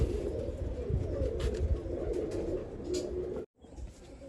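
Pigeon chicks chirp faintly close by over soft, continuous pigeon cooing, then a brief silent gap before the cooing resumes.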